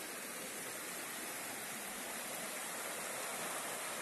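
A flooded river in Bahia after heavy rain, its water rushing in a loud, steady, dense roar that fills the whole clip without a break.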